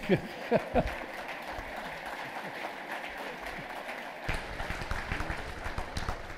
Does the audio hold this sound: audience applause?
yes